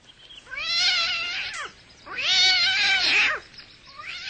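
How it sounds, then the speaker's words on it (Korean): A cat yowls sharply in two long, wavering cries, each lasting about a second and a half, with a shorter third cry starting at the end, loud and close with no other sound. "잠깐 졸고 있던 나는 날카로운 고양이 울음에 화들짝 잠이 깼다."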